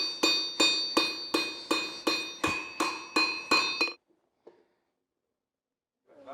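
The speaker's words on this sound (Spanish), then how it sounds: "El herrero termina el estirado del acero con el martillo, dando la forma al corte del hacha." A blacksmith hammers a steel axe head on a century-old anvil, nine ringing metallic strikes at an even rhythm, loud and close, then silence broken by one faint knock.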